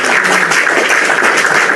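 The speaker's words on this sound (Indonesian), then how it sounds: "Tepuk tangan." Studio audience applause at an Indonesian singing show, a dense, steady wash of many hands clapping together, loud and sustained throughout with no voices over it.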